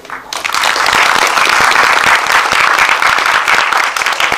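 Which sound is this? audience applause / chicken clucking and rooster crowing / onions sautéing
audience applause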